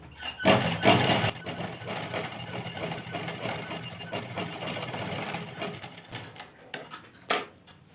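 A sewing machine runs in a steady mechanical whir as it stitches the V-shaped neck of a suit, close up, with a brief louder burst at the start and short bursts near the end as the cloth is fed.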